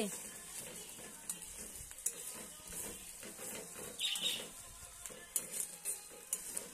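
Spices frying in a pan over low heat for a home-cooked chicken curry: a soft, steady sizzle with faint stirring scrapes and light clinks, quiet and continuous throughout.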